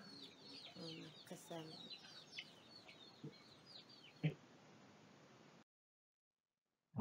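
Chickens clucking at a village farm project in Ghana, a flock's soft overlapping clucks and chirps at moderate distance, fading out near the end before a sudden noise.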